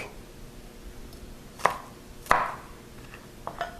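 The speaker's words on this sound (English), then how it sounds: "so now I'm going to dice up my garlic" A knife dices garlic on a cutting board for homemade meatball sauce, giving a few sharp, isolated chops spaced irregularly, close and fairly loud against a quiet room.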